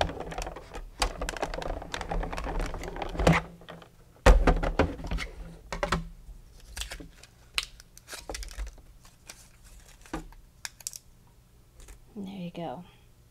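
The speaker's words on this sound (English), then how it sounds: "I'm going to keep cutting this." Paper being cut for a stamped foil card project, a series of sharp close clicks and snips with irregular spacing and a few louder thumps, with a person talking intermittently.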